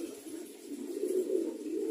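Pet pigeons coo in a low, continuous murmur, several birds close by with soft overlapping rolling calls and no talk.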